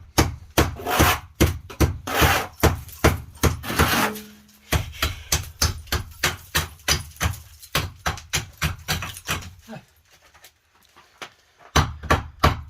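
Adze chopping into wood while cutting channels for electrical cables in a rural detached house under construction, a long run of sharp, rhythmic, close strikes, several per second, with a brief pause near the end.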